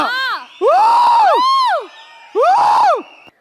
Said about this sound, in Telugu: ఇంకా కొడుతూనే ఉన్నారు విజిల్స్